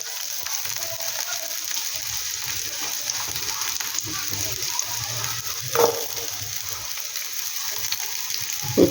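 Onion and green chilies frying in a wok, a steady loud sizzle close up with occasional stirring scrapes and a small clatter near the end.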